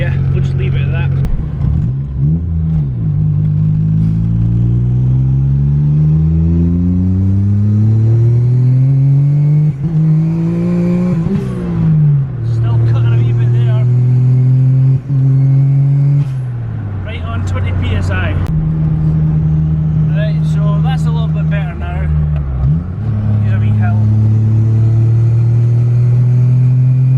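A Daihatsu Mira Turbo engine revs under boost, running at about 20 psi of wastegate pressure, rising and falling through repeated loud, close pulls while a voice speaks over it.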